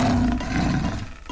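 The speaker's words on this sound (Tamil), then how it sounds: "சிங்கம் கத்துற சத்தம் கேக்குது." A cartoon lion lets out a loud, sustained roar from the Honey Bunny Ka Jholmaal kids' animation. It fills the whole moment up close and fades slightly at the end, with no talking.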